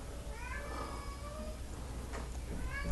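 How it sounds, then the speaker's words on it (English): A cat meows a few times, fairly near, over a steady room hum while a Lego set is being built indoors; the cries are thin and drawn out, and no one speaks. "the cat always wants to come in when we're building"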